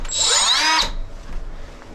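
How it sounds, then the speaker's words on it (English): A power grinder cuts into the thin sheet-metal sliding door of a Ford Transit van, a loud shrill whine with falling pitch for about a second, then a quieter rumbling tail as the tool winds down. "We're going to go ahead and grind out this top and the right."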